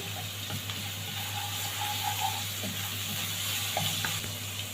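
Garlic for Egyptian fatteh is stirred in a hot pan, giving a continuous even sizzle with faint scraping under a steady low hum, close and without talking.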